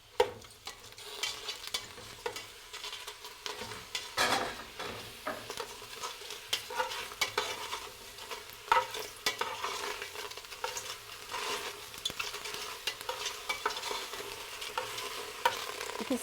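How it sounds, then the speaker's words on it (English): Tomatoes sizzle and fry in a very hot pot on the stove, with steady crackling and repeated scraping stir strokes throughout, close and fairly loud, with no talking. "Instead of roasting it in the oven, we sort of roasting it in the pot because it's so hot."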